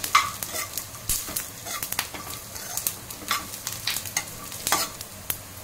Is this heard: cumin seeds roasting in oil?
yes